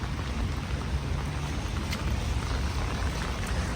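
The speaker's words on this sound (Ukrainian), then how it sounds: "дощ, який не перестає" Steady, dense rain pours down outdoors on a street in Lviv's old town, a constant hiss of drops on hard ground with no voices.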